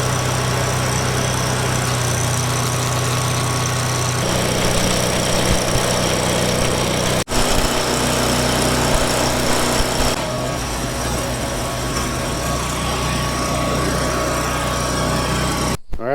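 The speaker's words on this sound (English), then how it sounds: "we're going to turn the welder on and burn this sucker in" An arc welder runs steadily while angle iron is welded on a farm, a continuous loud electrical drone with a brief break near the middle and a sharp cut-off at the end.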